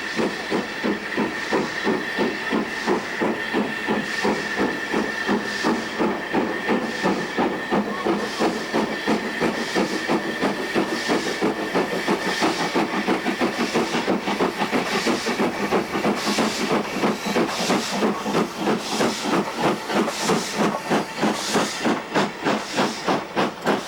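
A steam train pulls into Damems station on the Keighley and Worth Valley Railway, its loud, rhythmic chuffing beating steadily over continuous steam hiss and a faint whistle-like tone.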